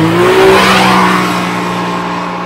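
A Can-Am Maverick Max side-by-side with an aftermarket exhaust accelerates loudly nearby, its engine note climbing then holding a steady roar over two and a half seconds.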